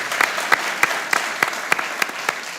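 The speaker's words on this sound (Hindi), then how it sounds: "एनफोर्समेंट के लिए तालियां।" A small group applauds the enforcement agencies at a cricket celebration for India's Asia Cup 2025 win over Pakistan. The claps are loud and rhythmic, spaced about every third of a second over a light crowd murmur.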